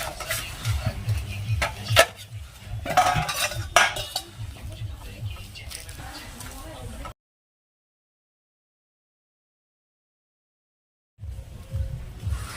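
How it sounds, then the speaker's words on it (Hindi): Dishes and utensils being washed by hand, with irregular clinks, clatters and scraping of pots and cutlery up close, then a stretch of silence before the clatter resumes. "तो आज हम धो रहे हैं बर्तन"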